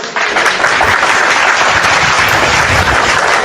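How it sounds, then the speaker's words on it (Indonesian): An audience at a religious debate gathering breaks into loud, sustained applause, a dense even roar of many hands clapping with no speech over it. "Oke, tepuk tangan dulu."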